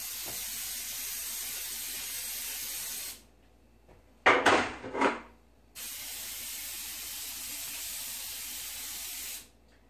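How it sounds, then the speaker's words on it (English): Cooking spray with flour in it hisses in two short, close bursts from an aerosol can, heard after the steady background hum cuts out. "with the cooking spray that has flour in it"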